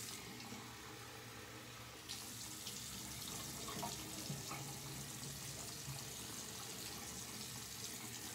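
Tap water runs steadily into a sink while a razor blade is rinsed after a shave, a continuous broadband splash that gets a little louder partway through.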